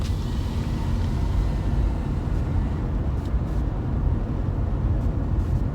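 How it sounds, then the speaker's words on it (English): Steady low road roar and tyre hum fill the cabin of a Nissan Leaf electric car on the move, a continuous broadband rumble with no engine note and no voices. "You can hear the road."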